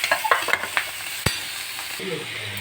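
Potatoes and broad beans stir-fry in a pan with mustard seeds and curry leaves, a steady sizzle broken by a few quick scraping stirs and one sharp clack of the spoon, close and fairly loud.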